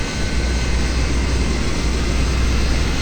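A Yak-40 trijet's center jet engine spools up during ignition in a flight simulator, giving a steady, loud, low-heavy roar with broadband hiss that holds constant throughout, with no talking.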